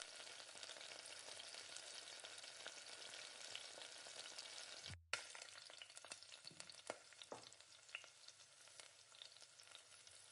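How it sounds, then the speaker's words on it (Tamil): Two spoons of yogurt and masala sizzle in oil for chicken biryani, a continuous bright frying hiss. A brief break halfway through is followed by a few stirring clatters as the sizzling goes on. "ஒரு 2 கரண்டி தயிர், இதையும் சேர்த்து நல்லா வதக்கிக்கணும் எண்ணெயில்"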